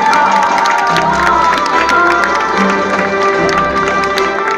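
Loud, close audience clapping and cheering at a live show, with lively shouts and young voices rising over steady applause throughout.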